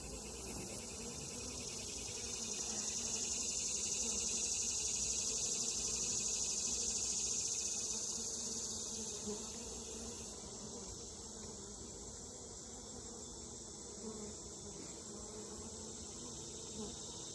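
Honeybees buzz inside an opened, smoked hive during an inspection, a soft, dense drone that swells for a few seconds and then settles into a steady hum.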